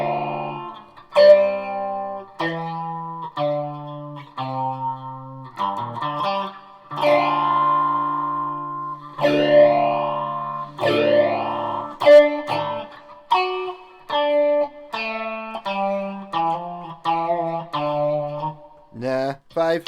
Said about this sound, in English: That's a kind of broken amp sound I would go for.